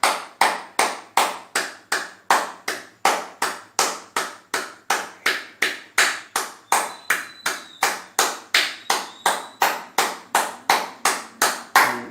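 Hands clap sharply in a steady, even rhythm as a brain-boosting exercise, roughly two claps per second over about twelve seconds, close and loud with no voices.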